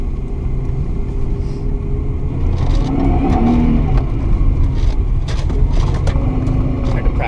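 A car drifts through fresh snow with its handbrake pulled and rear wheels locked, the engine rumbling and revving steadily at a moderate distance, with people talking over it.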